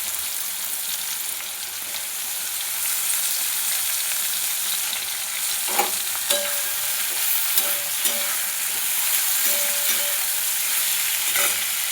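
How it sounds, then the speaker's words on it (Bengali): Softened cauliflower pieces fry with onion in a pan over raised heat, giving a moderate continuous sizzle. A spoon scrapes and knocks against the pan in a few scattered strokes midway. "ফুলকপিগুলো একটু নরম হয়ে গেছে, আঁচটা উঠিয়ে ভালোভাবে ভেজে নেব"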